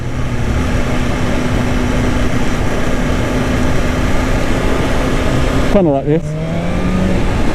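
A 2024 BMW S1000RR sports motorcycle engine being ridden, steady droning engine note under talk, then a sharp rising-and-falling rev sweep near the end as the throttle is blipped, loud and close.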